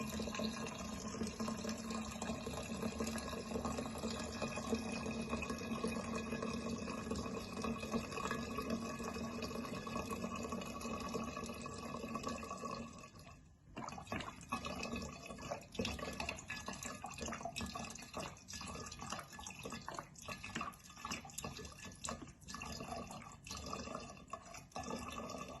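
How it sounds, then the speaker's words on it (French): White rum poured into a jar holding kiwi, about 70 centilitres, a steady liquid pour and trickle running continuously, with a short break midway before it resumes. "mettre un petit peu d'alcool, de rhum blanc"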